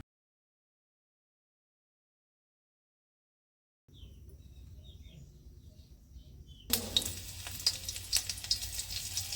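Green chillies fry in a pan on a clay stove, hissing and sizzling steadily after a silent opening. The sizzle grows louder partway through, with clinks and scrapes of stirring over the crackle.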